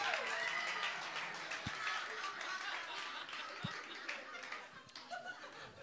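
Audience applause and scattered laughter at a comedy club set, a dense steady wash of clapping that carries through the whole stretch, with faint voices mixed in.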